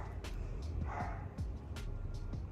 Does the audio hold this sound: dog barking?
yes